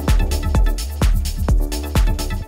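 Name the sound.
techno synth pluck through a clipper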